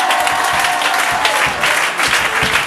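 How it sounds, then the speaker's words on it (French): A church congregation at a French-language service claps together, loud dense applause filling the space with bursts of individual hand claps throughout. "Dis Amen et acclame."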